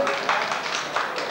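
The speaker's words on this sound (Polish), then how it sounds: "Średnie brawa." Moderate audience applause at a 1992 community cultural centre event in Grudusk, a steady patter of many hands clapping at medium volume, with faint voices underneath.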